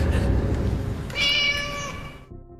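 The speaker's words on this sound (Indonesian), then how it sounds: "Jim pun merasa lega karena ternyata suara itu berasal dari seekor kucing" A cat meows in a zombie film, one drawn-out, wavering cry rising over a low ambient rumble and then falling silent.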